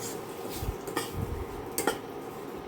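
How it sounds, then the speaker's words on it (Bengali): Semolina being stirred in a pan for sabudana idli, with soft scraping and a few light metallic ticks of a utensil against the pan, close and fairly quiet. "দিয়ে সুন্দর নেড়ে চেড়ে নেব।"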